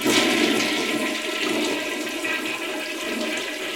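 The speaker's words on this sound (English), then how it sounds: "All right, toilet flush." A toilet flushes with a steady rushing, gurgling swirl of water that stays loud and close for several seconds, alone with no voices.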